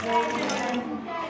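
Water poured from a glass into a saucepan makes a steady, close splashing gush for about a second, with a faint voice in the background.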